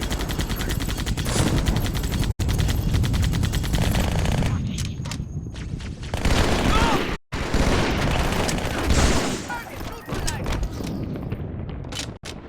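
Halo 2 combat against jackals, with dense automatic gunfire in rapid bursts, loud and close, broken by short pauses and deeper blasts, and voices talking amid the shooting.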